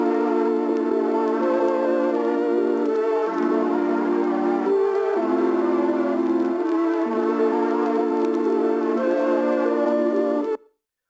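A dense, sustained harmonic music sample with layered processed tones, shifting chords over about ten seconds at steady loudness, then stopping abruptly.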